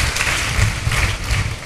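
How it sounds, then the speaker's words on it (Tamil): Congregation clapping for the Lord during a Tamil church sermon, a steady rolling wash of hand claps with a few louder swells, sustained throughout. "கர்த்தருக்கு ஒரு கைத்தட்டு கொடு"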